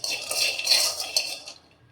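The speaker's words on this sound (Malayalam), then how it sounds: "ഇനിയും ഈ പാത്രത്തിലോട്ട് നമ്മൾ എടുത്ത് വെച്ചിരുന്ന കപ്പലണ്ടി കൂടെ ഇട്ട് റോസ്റ്റ് ചെയ്യാം" Peanuts roast in a pan for laddu, rattling and scraping as they are stirred, a close, bright clatter that fades out after about a second and a half.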